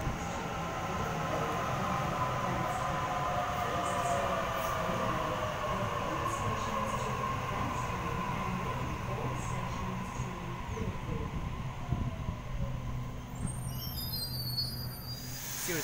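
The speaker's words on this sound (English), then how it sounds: "We have a Series 1 Waratah arriving to Platform 1 for a city circle by Sydenham Service." A Sydney Trains Series 1 Waratah set rolls into a station platform, its steady rumble holding throughout with faint wheel squeal and a brief high hiss of brakes or doors near the end.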